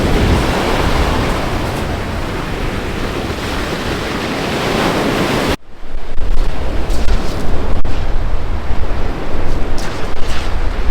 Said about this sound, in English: Waves are crashing over a couple of little reefs here.